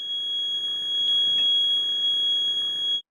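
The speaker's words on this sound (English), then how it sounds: "for all modes except bar holing, the middle button can be used to mute the acoustic alarm" A handheld Bascom Turner Gas Explorer gas detector sounds its acoustic alarm, a steady, piercing electronic tone with rapid beeping, loud and close, running for about three seconds before cutting off abruptly.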